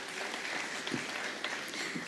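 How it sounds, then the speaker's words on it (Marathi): Audience applause at an inaugural music festival ceremony: a continuous, fairly faint wash of many hands clapping from a distance. "तर पुन्हा एकदा आदिशसाठी आपण जोरदार टाळ्या द्यायला हरकत नाही आहे."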